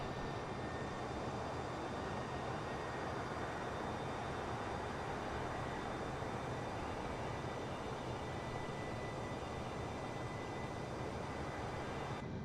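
Steady, unbroken roar of Airbus A320neo jet engines on climb in Microsoft Flight Simulator, a dense even rumble with a faint high whine, constant in level and without voices.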